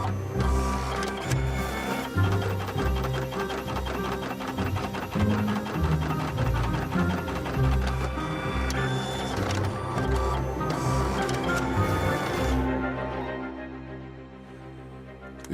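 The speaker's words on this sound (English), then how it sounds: "The printer immediately unblocks." A printer runs after its counter chip has been reset, giving a loud, continuous mechanical whir with rapid repetitive clatter and stepping sounds that stop near the end.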